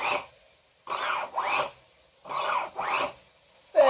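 Kitchen knives being sharpened, a series of short scraping strokes in pairs with brief gaps between them, close and fairly quiet.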